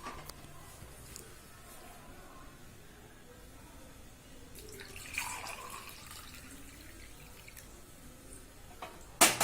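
Homemade tulsi herbal water, brewed with cumin, pepper and ginger, is poured into a glass in a short liquid splash midway, set against quiet room background with small drips near the end.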